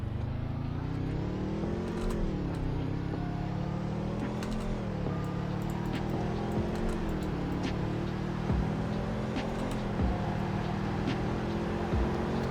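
A video game car in Greenville accelerates through a six-speed gearbox, its engine tone climbing and dropping at each upshift in a steady, continuous drone without speech.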